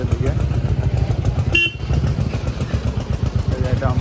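A Royal Enfield motorcycle outside a service centre, its engine thumping steadily close by and growing louder as it is ridden away, with a brief honk partway through and people talking over it.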